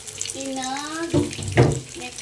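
Tap water running at a sink while white fish is washed, a close steady splash and gush, with a voice speaking briefly over part of it.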